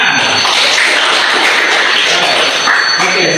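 A class group at a school fire alarm demonstration gets steady, dense applause from a room of students, continuous and fairly loud for the whole stretch, with some voices mixed in.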